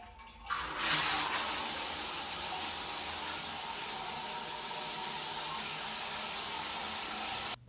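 A hotel shower running hot water with good pressure, switching on and settling into a steady, close hissing spray that continues unbroken before cutting off at the end.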